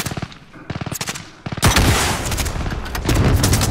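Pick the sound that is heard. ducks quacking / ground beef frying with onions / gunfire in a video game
gunfire in a video game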